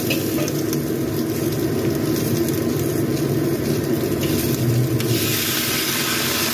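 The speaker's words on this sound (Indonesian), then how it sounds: "lalu ini kita tumis hingga sampai semua tercampur rata, dan ini sayur kulnya layu" Green beans and cabbage stir-frying in a pan, a steady dense sizzle and crackle of hot oil running throughout with faint scraping of stirring, close and continuous with no voices.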